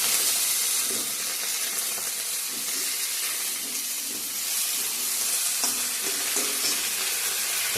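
Potatoes and cauliflower hit oil tempered with onion, bay leaf, dried chilli, panch phoron and ginger, producing a loud, continuous sizzle with intermittent stirring scrapes, close and steady throughout.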